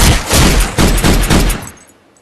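Gunfire from a Telugu action movie scene in Sardaar Gabbar Singh: a few loud, rapid bursts rattle in quick succession, then the last burst fades into a short ringing tail.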